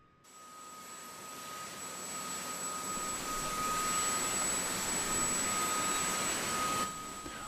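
An aircraft engine in DCS World runs as a steady, loud jet roar with a high whine, starting suddenly and holding evenly before cutting off near the end.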